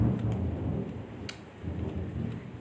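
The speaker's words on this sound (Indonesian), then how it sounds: "Kebetulan saya tuh kebetulan nih hari ini hujan ya," Rain falls steadily outside with low rumbling thunder rolling underneath, a continuous wash of drops with a brief sharper crack partway through.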